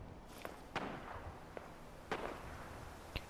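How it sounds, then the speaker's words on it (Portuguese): Gunfire in the Fallout 4 video game: several sharp, separate shots spread across a few seconds, sounding fairly distant over a quiet background, with no talking. "Ouço tiros."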